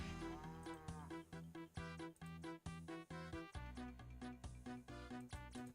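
Cattle in the Old School RuneScape video game moo loudly and repeatedly in a rapid, overlapping series, filling the clip with a dense, steady run of calls.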